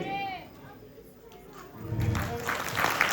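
Clapping swells from quiet into a dense, fairly loud ripple from a crowd of devotees at a Hare Krishna temple drama performance, rising after a lull near the start.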